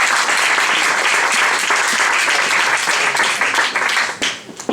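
A large audience applauds loudly and steadily, dense clapping filling the whole stretch before tapering slightly near the end.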